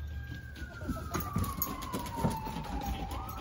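A single siren wails steadily in the distance, its pitch slowly falling and then rising again, over low outdoor rumble and faint traffic.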